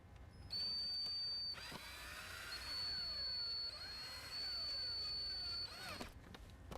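A power drill whines steadily in several long bursts while driving a screw into a car's back wall for a speaker install, its pitch dipping and rising as it bites, close and loud, with short pauses between runs.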